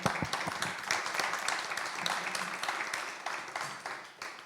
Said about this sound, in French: Peut-être on peut vous applaudir même, je crois